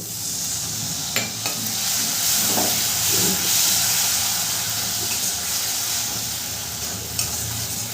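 Sizzling tomato masala in a pan for jackfruit curry, with a steady loud frying hiss and occasional stirring scrapes and spits after a little water is added, no talking.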